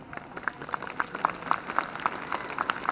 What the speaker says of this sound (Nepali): ताली मन्द मन्द आयो